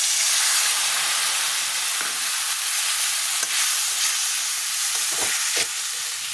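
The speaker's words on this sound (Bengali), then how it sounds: "আদা লঙ্কা বাটা ধনে গুঁড়ো একটু লঙ্কা গুঁড়ো হলুদ দিয়েছি এবার একটু জল দেবো" Spice paste of ginger-chilli paste, coriander powder, chilli powder, turmeric and asafoetida frying in a pan for potato curry, with a steady close sizzle and hiss as water goes in, plus brief stirring knocks near the end.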